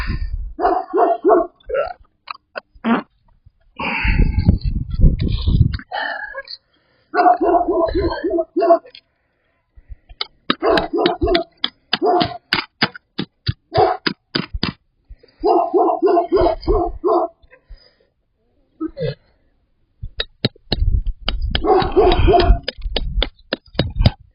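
A dog barks indoors at home in repeated loud bursts and short volleys with pauses between them, close by, with occasional low vocal sounds in between.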